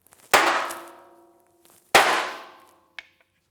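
A body shop hammer strikes an undamaged sheet metal fender held against a dolly, two loud ringing clangs that decay slowly, followed by a light tap.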